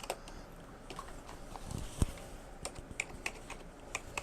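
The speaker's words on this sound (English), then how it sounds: "it's like if you're like doing a lot of rapid key typing." Rapid clicking key presses from a keyboard-style gadget opened in a Black Friday mystery unboxing, a fast patter of light taps with one sharper snap near the middle, close and fairly quiet.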